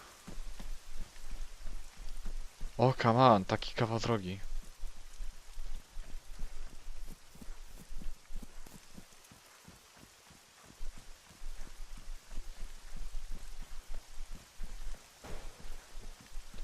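Steady rain falls in the military game Arma 3, a continuous pattering hiss of drops that stays even throughout, with someone speaking briefly near the start.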